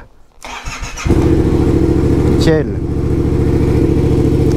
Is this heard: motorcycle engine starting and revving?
yes